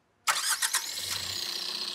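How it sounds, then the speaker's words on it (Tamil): A diesel car engine cranks and catches, then settles into a steady, loud diesel idle with a rough, clattering note. "இந்த இன்ஜின் வந்து டீசல் இன்ஜினால எந்த அளவுக்கு நாய்ஸ் இருக்குது அப்படின்றத நம்ம பார்க்கணும்ல"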